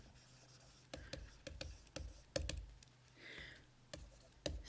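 Pen or marker writing on a board during a chemistry lesson on acids and bases, quiet irregular taps and short scratchy strokes in uneven bursts, faint and close.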